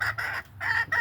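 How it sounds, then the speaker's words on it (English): A Duckwing hen that may be going broody cackles close by, a quick burst of two or three loud, rasping clucks in rapid succession. "This one here cackling."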